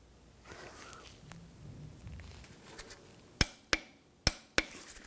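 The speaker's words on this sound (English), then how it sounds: "Now we're going to torque this to 37 foot-pounds." Four sharp metallic clicks ring out near the end as a torque wrench tightens a front shock absorber nut on a 2004-2009 Audi A4 Quattro, following quieter handling noises and faint rustling in a workshop.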